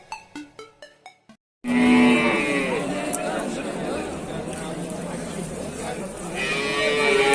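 A cow with a calf moos loudly at a busy livestock market in Dushanbe, one drawn-out call rising over crowd chatter and loudspeaker talk, after a few sharp knocks at the start.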